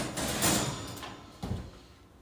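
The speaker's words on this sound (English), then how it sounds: "let me shut the door" An oven door swings shut in a home kitchen during ribs cooking: a soft rolling movement at first, then a single muffled thud, fairly quiet and close, fading out afterward.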